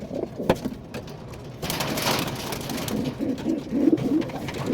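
Pigeons coo repeatedly in a loft during molting season, soft throaty calls rising and falling over a steady background, clearest in the latter half.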